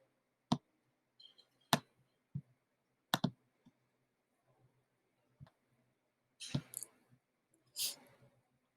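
Sharp, isolated clicks sound at irregular intervals from a computer mouse, close and fairly loud against quiet, with a few softer rustles between them.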